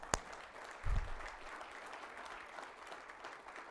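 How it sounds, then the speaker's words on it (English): Audience applause for award winners at an engineering awards brunch, a scattered, fairly faint patter of clapping from a modest crowd that carries on evenly after a sharp opening knock. "Let's give all of these award winners,"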